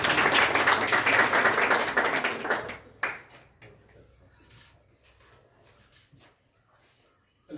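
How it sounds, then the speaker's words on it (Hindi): Audience applause at a Hindi toppers' award ceremony, loud and dense for about three seconds before cutting off abruptly, followed by scattered claps and faint room noise. "जूही के लिए जोरदार ताली।"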